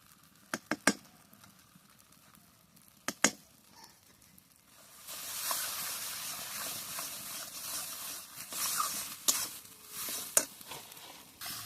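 A mustard paste spice mix for prawn malai curry sautés in a pan. Sharp clinks and scrapes come first, then a steady, soft sizzle with stirring taps, fairly quiet throughout.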